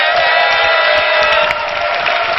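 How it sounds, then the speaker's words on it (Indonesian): Audience at a televised Jakarta gubernatorial debate applauding, a dense continuous wash of clapping from a large crowd lasting throughout. "Kalau ingin tepuk tangan, saya ajak sekarang semua untuk tepuk tangan"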